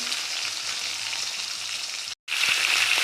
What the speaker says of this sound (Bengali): আলুটা আমি দিয়ে দিয়েছি, আলুটা একটু ভাজা করে নেবো